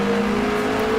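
A Brabham race car powered by a Climax engine holds a steady, loud, droning whine at speed, its engine note sustained and even with no voices over it.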